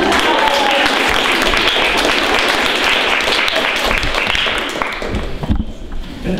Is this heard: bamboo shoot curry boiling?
no